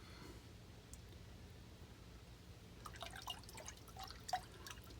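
Water drips and splashes faintly as a metal tool cleaned in acid is rinsed, with soft scattered droplets in the last two seconds over a low steady hum.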